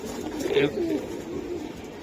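Pigeons, including a green-necked male and a female, cooing softly and briefly nearby while someone talks.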